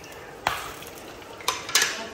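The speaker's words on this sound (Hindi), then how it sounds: "तो बस अब अघार कर देते हैं" Mustard seeds, cumin and asafoetida tempering in hot oil for sambar, a soft steady sizzle broken by a few sharp spatters and pops, close by with no talking.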